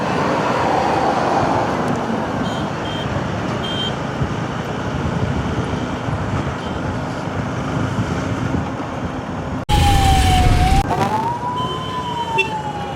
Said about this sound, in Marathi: मागे ॲम्ब्युलन्स आहे, ॲम्ब्युलन्स सायरन मारतोय